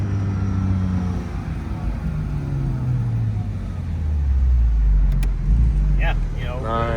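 Porsche Boxster Spyder RS (982) engine heard from the passenger seat on a ride, a steady loud drone rising in pitch as the car accelerates near the end, with voices talking over it.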